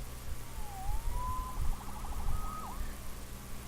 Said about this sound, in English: Saved by the siren.